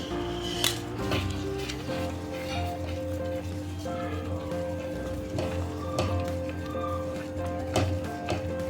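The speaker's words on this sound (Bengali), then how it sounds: "এবার আমরা ভেজে রাখা সবজিগুলো এর মধ্যে দিয়ে দেবো।" Fried vegetables tumbling into a hot pan, with a steady close sizzle, occasional clinks of a utensil against metal, and a few sharper clatters over continuous frying noise.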